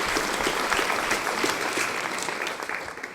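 Audience applause for Mabel at a Women's Institute Armistice centenary gathering in Enniskillen Cathedral: a dense, sustained clapping from a crowd, steady throughout and fading slightly at the end.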